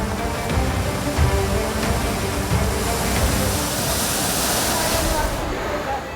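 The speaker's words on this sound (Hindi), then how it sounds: "दहाड़ मारते नाले" Roaring floodwater surging through overflowing street drains in Delhi during heavy rains, a steady, loud broadband rush with no breaks, like a waterfall close by.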